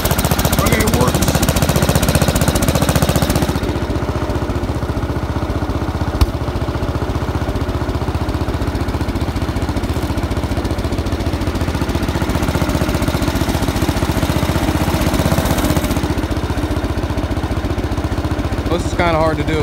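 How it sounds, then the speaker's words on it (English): A Wards-Gilson hydrostatic garden tractor engine runs steadily with a loud, rapid mechanical chatter, dropping slightly in level after a few seconds and holding there, with a person speaking intermittently over it. "This Wards tractor got a little hydraulic lift here."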